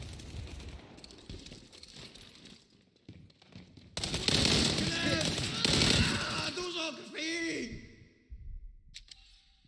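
Gunfire from the war shooter World War 3, with sharp shots clustered in a loud burst midway, set among rumbling battle noise and voices.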